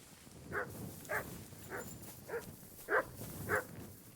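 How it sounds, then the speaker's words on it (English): Six evenly spaced dog barks come from a video game's ambience, at moderate distance, each short and a little muffled, spread over about four seconds with no talk. "Dog is barking."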